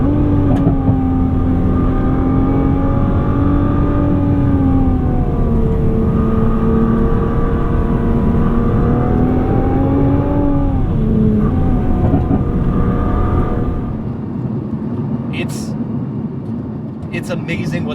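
A 2020 Nissan GT-R Nismo with a hand-built 3.8-liter twin-turbo V6 accelerates hard: a loud, rising engine note that drops sharply at each quick gear change, then climbs again, with a voice talking over it.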